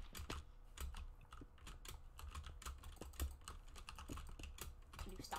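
Rapid, irregular clacking of keys on a computer keyboard, close and fairly quiet, with bursts of quick keystrokes during a gaming session and no talking.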